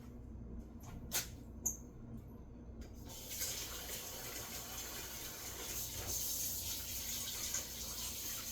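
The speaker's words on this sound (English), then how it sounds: "Washing my hands." Tap water runs over hands at a kitchen sink. A few faint clicks come first, then a steady, close rush of running water holds from about three seconds to the end.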